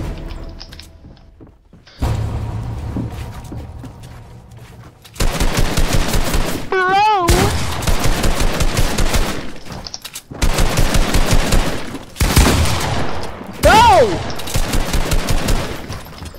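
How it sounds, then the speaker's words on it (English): Rapid gunfire in the video game Fortnite: dense, loud bursts of shots in several long stretches separated by short gaps, with other game effects in between and no clear talking. "Does my shotgun know how to shoot?"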